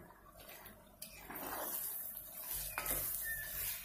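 Tomato paste stirred in a hot pan over high heat, with a soft sizzle and scraping of a utensil against the pan, a sharp clink near the start and steady frying underneath.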